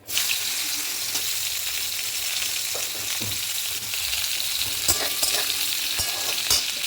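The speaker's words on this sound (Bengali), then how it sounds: "এই তেলে এবার আমি উচ্ছেগুলো একটু হালকা করে ভেজে নেবো।" Bitter gourd pieces sizzle steadily in hot oil, a continuous crackling hiss with occasional stirring clinks, no voices.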